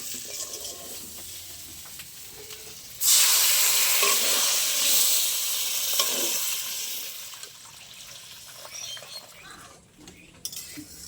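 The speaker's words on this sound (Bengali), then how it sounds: "এবার আমি জল দিয়ে দেবো।" Water poured into sizzling spice paste in a pan while cooking an elephant foot yam and hilsa fish curry, producing a sudden loud hissing surge that slowly fades, with utensil clinks and a voice nearby.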